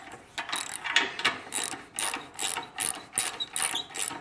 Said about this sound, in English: We're tightening the bolt here just a little bit